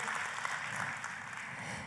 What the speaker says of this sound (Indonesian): Oh kalau mau tepuk tangan yang paling meriah